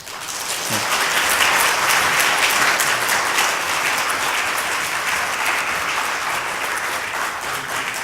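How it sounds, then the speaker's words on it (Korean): An audience at a Sunday afternoon church lecture breaks into dense, sustained applause to welcome a professor, loud and steady throughout, with no voices over it. "박수로 환영하겠습니다."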